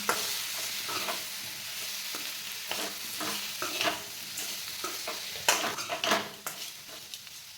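Spices being mixed into a lime pickle with a spoon, close and fairly quiet, giving irregular scraping and clinking strokes against the vessel that grow busier toward the end.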